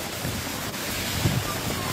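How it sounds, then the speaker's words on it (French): The Éventail waterfall of the Hérisson cascades pours in a continuous broadband rush, loud and close, mixed with wind buffeting the microphone. "la cascade de l'éventail."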